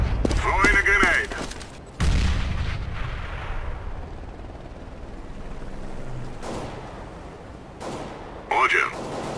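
Gunfire and explosion sounds in Counter-Strike: Global Offensive on the dust2 map, played in a pro match: loud bursts and booms that come and go, with radio-style voice callouts in the game.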